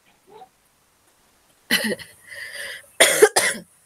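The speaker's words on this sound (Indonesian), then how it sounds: "sambil pilek nih batuk." A few harsh, close coughs in quick succession, the last two nearly back to back, after a faint brief sound in an otherwise quiet room.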